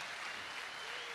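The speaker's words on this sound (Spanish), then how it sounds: "les doy un aplauso a todos" Brief, steady wash of audience applause at a show, many hands clapping in a continuous, fairly faint blur.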